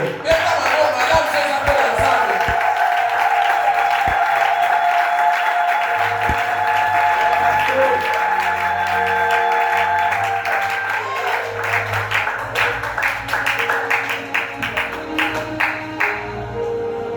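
An audience at a church youth festival applauds loudly for a sustained stretch, the clapping continuing throughout and thinning into scattered claps toward the end.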